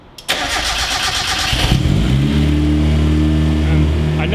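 A turbocharged Mazda Miata engine cranks over and settles into a steady, close idle with a loud, continuous rush from the turbo and intake, lasting several seconds without pause.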